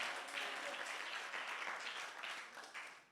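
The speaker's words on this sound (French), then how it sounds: "Applaudissons pour le Seigneur." A church congregation claps for the Lord in sustained, dense applause that fills the room and stays loud throughout before easing slightly at the end.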